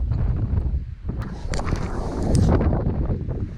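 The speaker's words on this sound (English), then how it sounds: "It's so windy, it's blown me tripod over." Strong wind blows on a muddy Essex shore at Canewdon, roaring across the microphone in loud continuous gusts with rustling, no voices.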